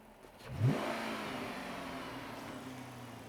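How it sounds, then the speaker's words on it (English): The old Hemi engine of an abandoned police car revving up once with a rising roar, then holding at a steady, fairly faint drone, no voices. "Shouldn't rev this with the stuff in there, but I'm curious."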